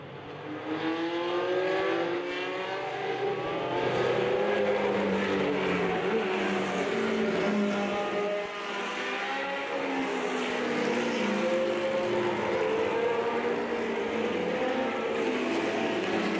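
Historic Formula race cars at Laguna Seca run in a pack behind the safety car down the corkscrew, a loud continuous engine roar with overlapping revs and shifting pitch.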